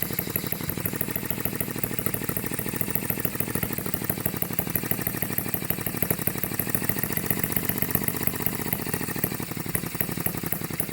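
A small HM-01 model engine runs steadily at a fast, even beat, a buzzy mechanical chatter that holds constant and fairly close throughout with no voices.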